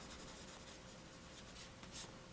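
Fine steel nib of a Jinhao 995 Swan fountain pen scratching across paper, a faint, continuous close-up writing rub with slight stroke variations and no talk.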